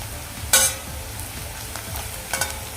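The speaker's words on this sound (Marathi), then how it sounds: "कांदा पण एकसारखा हलवत राहायचा आहे आणि ट्रान्सपरंट झाला कांदा" Onion stirred and fried over a high gas flame for a vegetable dish of brinjal and potato, a constant crackling sizzle marked by two sharp spoon scrapes against the pan.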